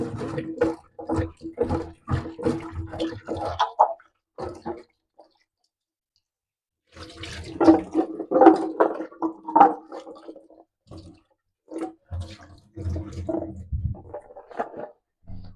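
Small tubers are washed by hand in water, giving irregular splashing, sloshing and clicking bursts close by, with a quiet pause in the middle.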